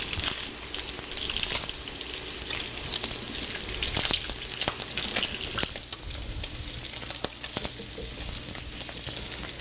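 Bacon sizzles and spits in a frying pan, a continuous crackling hiss with scattered sharp pops, fairly quiet and close with no talking.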